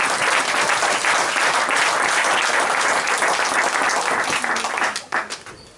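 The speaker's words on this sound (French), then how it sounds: "Donnons une acclamation au Seigneur." A church congregation breaks into loud sustained applause during a service, thick continuous clapping filling the room before it quickly tapers off at the end.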